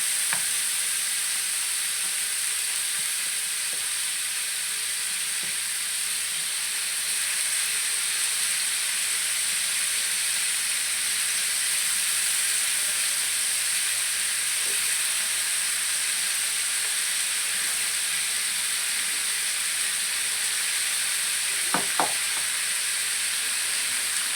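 Marinated paneer pieces fry in a hot pan with a steady, close sizzle that holds evenly throughout, broken only by a couple of sharp little clicks near the end; nobody speaks.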